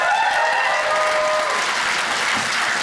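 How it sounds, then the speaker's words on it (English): A stand-up comedy crowd breaks into loud, full applause, a thick continuous roar of clapping with a few faint whistles or cheers at the start, holding steady throughout. "Round of applause, married folks."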